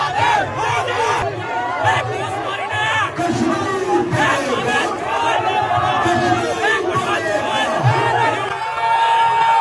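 A dense crowd surges and clamours around a BJP leader in Gujarat, loud overlapping shouts and raised voices pressing close throughout without letup.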